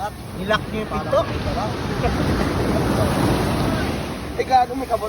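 Strong surf rolling and crashing on a Zambales beach, a broad continuous roar of breaking waves with wind buffeting the microphone and people talking nearby.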